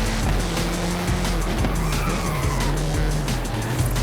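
A BMW M8 Competition in Forza Horizon 5 skids through a corner, sustained tire squeal over a loud, steady engine roar, close and continuous.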